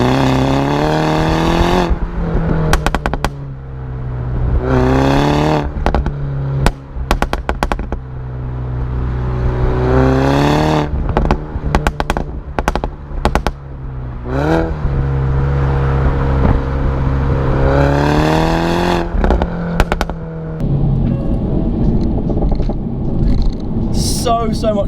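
A Mini Cooper S's exhaust growls and revs through gear changes in sport mode with rev matching, rising and dropping in pitch, loud and close, with someone talking over it.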